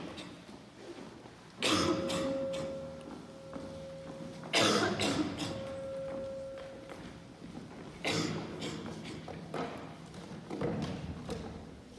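A person coughs in three separate harsh bursts, spaced several seconds apart, close by, with quiet pauses between them.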